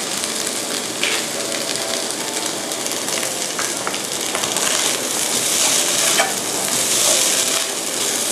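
Crab meat stir-fried into fried rice in a hot pan, a loud continuous sizzle with scraping stirring sounds throughout, close and without talk.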